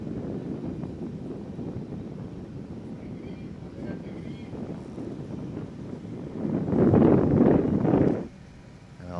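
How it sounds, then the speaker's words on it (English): Steady wind on a footgolf course in Acapulco buffets the microphone in a low rumble, swelling into a stronger gust near the end. "You can see it's still very, very windy out there."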